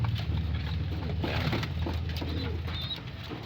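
Pigeons coo softly in a loft, several low throaty calls rising over a constant background hum, moderately close and fairly quiet, with no talk.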